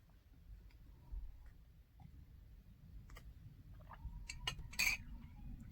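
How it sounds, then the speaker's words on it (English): A spoon set down into a coffee cup gives a few quick, small clinks and ticks of metal on ceramic, close and fairly quiet over a low room hum, with no talking. "I'll put my spoon in my coffee cup"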